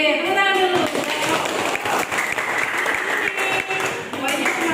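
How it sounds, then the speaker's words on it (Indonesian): Classroom audience of students applauding on a teacher's cue, a lively, continuous patter of clapping sustained for several seconds, mixed with chatter and voices throughout. "Oke, tepuk tangan dulu."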